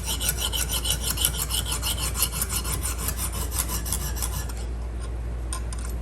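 A knife blade scraped in steady rhythmic strokes against a Lansky guided sharpening stone, establishing a first edge on a never-sharpened knife; close, rasping and even, easing off near the end over a low hum.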